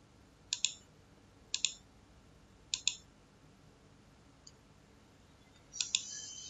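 Computer mouse clicking while working in SketchUp with a railing plugin: crisp, close double clicks spaced about a second apart, repeated four times with one faint single click between, in a quiet room with no talk.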